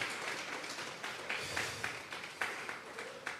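A church congregation at a Sunday service breaks into a steady wash of applause, a dense, fairly distant patter of many hands with scattered louder claps.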